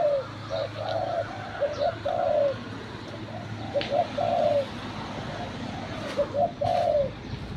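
Soft, repeated dove coos in short phrases, fairly close, over a steady low background hum with a few faint chirps.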